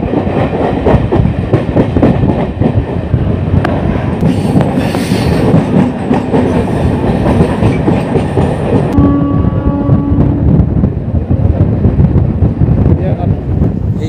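Howrah–Purulia MEMU local train number 68122 running via Masagram, heard from on board as a loud continuous rumble with clattering wheels, brief squeals and a faint horn, and voices talk over it.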